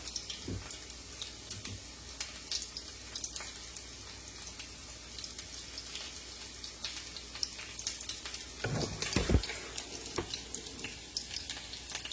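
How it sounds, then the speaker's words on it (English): Food frying in a pot in a home kitchen, a steady soft sizzle with bubbling and water-like crackle running throughout, a few louder clatters near the end. "I'm gonna leave it to fry up."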